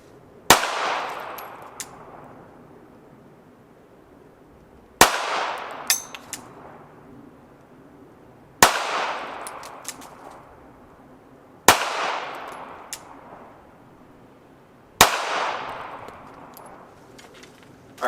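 Five slow, evenly spaced shots from a pistol fitted with an RMR sight, each a sharp loud crack with a ringing decay, several seconds apart, at an outdoor range with no talk.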